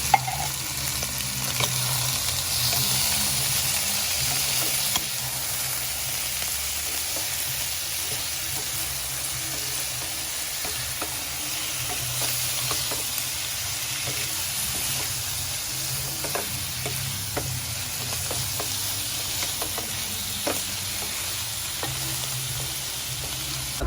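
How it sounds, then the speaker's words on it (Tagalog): Corned beef and onion sauté in a pan with a continuous soft sizzle and hiss, broken by scattered light clicks and scrapes of stirring, steady and close over a long stretch without speech. "At habang ginigisa nga natin siya,"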